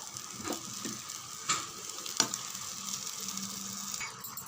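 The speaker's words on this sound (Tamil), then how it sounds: "எல்லாமே சேர்த்தாச்சு, நல்லா கலந்து விடுங்க" Chicken and masala sizzle softly in a pan as they are mixed, a continuous frying hiss with a few scraping stirs and light clinks, no one talking.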